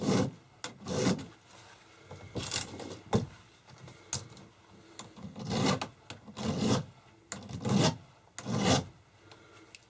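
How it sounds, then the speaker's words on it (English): Hand file rasping across a chainsaw chain's depth gauges, steady close-up strokes in repeated bursts, pushing and pulling with short pauses between, alone with no talk. "You would file this until you started scraping"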